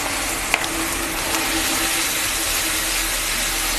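Garlic and ginger paste frying in a pan, giving a steady, loud, close sizzle with a faint scrape or two from stirring and no speech.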